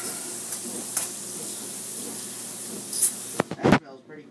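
Food stirred in a frying pan: a hissing sizzle runs throughout with soft scraping stirs, then ends in a few loud clanks of the pan near the end, under a voice.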